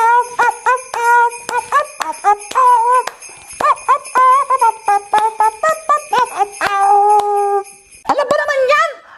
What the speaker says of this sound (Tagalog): Ops, marunong din siya mag-sing. Sing, Doggy, sing